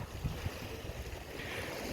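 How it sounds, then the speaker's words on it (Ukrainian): Small waves of the Ionian Sea wash along the waterfront at Zakynthos, a soft, continuous surf rush mixed with breeze and a couple of low thumps, with no one talking. "Море вже чуєте. Сьогодні є трошки волни. Такий приятний звук."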